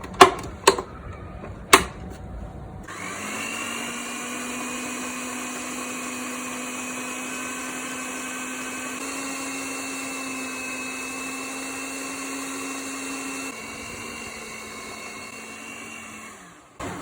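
After a few clicks and knocks, an electric mixer starts and whirs steadily at low speed through cookie dough with flour and oats, a close motor hum that lightens slightly near the end before stopping.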